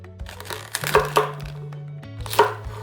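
A knife chops pak choi into coarse pieces on a cutting board, several sharp close thuds spaced irregularly, each with a crisp crunch.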